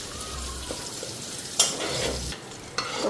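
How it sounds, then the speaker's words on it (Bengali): Onion frying lightly in a pan while being stirred, a steady soft sizzle with a few sharper scrapes of the spoon, close by and without speech. "তো পেঁয়াজটা হালকা ভেজে নিলাম"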